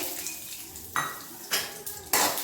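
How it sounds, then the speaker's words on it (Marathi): Peanuts fried in hot oil in a pan for a raw tomato chutney: a low, steady sizzle broken by three or four sharp metallic scrapes and clinks of a spoon against the pan, close up. "तेल छान गरम झालेलं आहे आता आपण त्यामध्ये शेंगदाणे परतून घेऊया"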